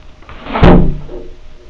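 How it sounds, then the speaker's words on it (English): A window slams open in a spoken horror story: one loud, close, abrupt bang that rings out briefly and fades over a quiet background. "The window slammed open."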